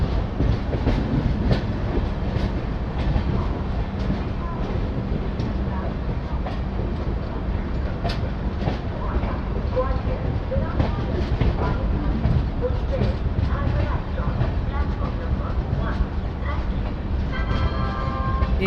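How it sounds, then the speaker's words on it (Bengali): The Chambal Express creeps into platform 4 at Agra station in the evening, a continuous low rumble with rhythmic wheel clatter over rail joints and occasional sharp metallic clicks. A brief high squeal rises near the end, and background voices are heard. "সন্ধে 6:45টার সময় ট্রেন ধীরে ধীরে আগ্রা স্টেশনের 4 নম্বর প্ল্যাটফর্মে"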